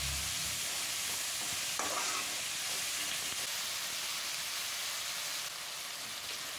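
Pepper chicken fries with curry leaves in a pan, giving a dense, steady sizzle and hiss close by with light stirring. It runs continuously with no voices.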